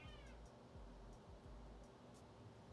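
A cat meows several times in quick succession, fairly close but at low level, with no one speaking over it.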